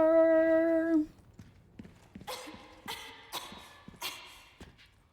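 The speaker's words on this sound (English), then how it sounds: "It's so nice that she just decided to cough so I could hear where she was." Ashley coughs a few times in Resident Evil 4, short rough bursts spaced about half a second apart after a brief sustained tone fades out, heard at moderate distance in a quiet setting.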